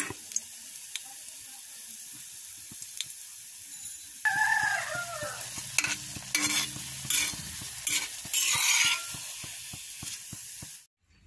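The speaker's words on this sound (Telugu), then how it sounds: "అటు ఇటు తిప్పుతూ ఫ్రై చేసుకోవాలి." Milk bread fries in a pan, a soft steady sizzle that swells with stirring and turning clatter partway through, then cuts off abruptly at the end.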